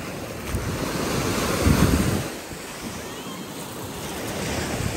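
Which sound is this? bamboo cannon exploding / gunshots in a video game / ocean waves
ocean waves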